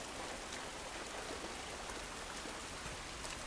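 Steady rain falls throughout, a dense even hiss of drops and pattering on surfaces in the video game The Last of Us Part 1, with no voices.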